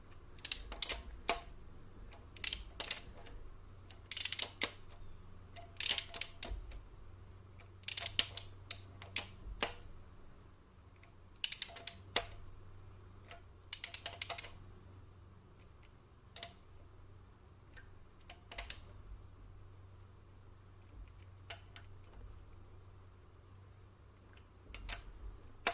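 Sharp ratcheting clicks of a torque wrench tightening rocker arms on a 1995 Jeep Cherokee XJ engine, coming in irregular close bursts that alternate with short pauses over a low steady hum.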